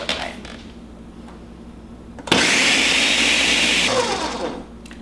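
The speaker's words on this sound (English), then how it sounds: "We're just gonna blend this up until everything is liquid." Strawberries are blended into a vodka slushie, with faint kitchen sounds first, then the blender motor kicking in loudly and whirring steadily for about two seconds before winding down.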